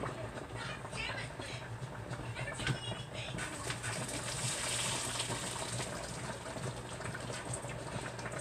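Cooking water is strained through a colander in a home kitchen, a steady rushing splash and gurgle that swells midway, with a voice talking faintly over it.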